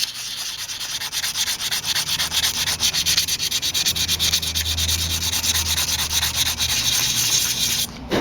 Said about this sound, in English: you're gonna just kind of sand it down nicely